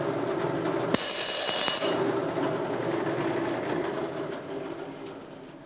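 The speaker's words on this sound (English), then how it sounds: "the noise associated with cutting these thin materials with a coarse tooth blade" A coarse-tooth saw blade cutting thin metal sheet, with one harsh, loud burst of screeching clatter lasting about a second, followed by a steadier lower rasping chatter that continues to the end.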